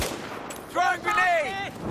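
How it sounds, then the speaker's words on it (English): An explosive blast from a grenade in the Battlefield 4 multiplayer game, Conquest mode on the Paracel Storm map. A rough burst opens the moment, then ringing, wavering tones carry on for about a second. "Throwing grenade!"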